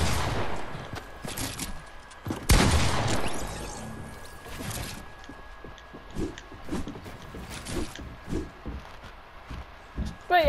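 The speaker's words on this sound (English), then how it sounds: "Shotgun." Shotgun blasts in the Fortnite video game during a duos match: a sharp loud burst stands out among scattered fainter shots and footsteps, with players talking over the gameplay.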